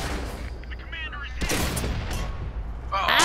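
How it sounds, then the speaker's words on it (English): Tank cannon fire in the World of Tanks video game, with a KV-1S among the tanks, arriving as a sharp blast midway through a busy mix of game sounds and engine rumble, with people talking over it. "I got a KV-1S shooting me."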